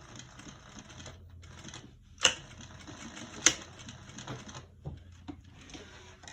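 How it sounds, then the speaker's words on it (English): A sewing machine stitches just inside a zipper seam on a crossbody bag, humming and rattling in quick mechanical bursts, with brief pauses and a couple of sharp clicks between runs of stitching. "I'm also sewing just inside the zipper seam line"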